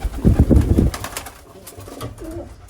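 A red frill racing pigeon gives a low, throaty coo, a few close pulsing notes followed by quieter trailing calls.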